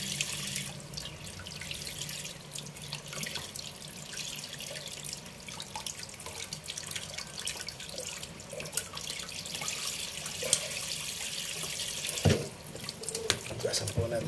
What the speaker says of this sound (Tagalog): Hugasan po natin siyempre yung ating pinagawan.